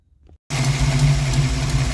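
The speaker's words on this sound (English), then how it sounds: "Sounds a lot like an exhaust leak, except much worse now, and it just hasn't been running right." A Ford 302 V8 with a dead cylinder or two starts up abruptly after near silence and runs rough and loud, a throbbing, uneven low rumble like an exhaust leak, heard close and alone.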